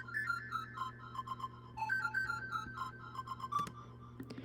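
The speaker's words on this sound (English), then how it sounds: "And so with the parallel processing convolution reverb added, it sounds like this" Metal utensils are struck for foley, with parallel convolution reverb added. They make a run of bright, bell-like pings at different pitches, each ringing out in a roomy tail, fairly quiet and alone.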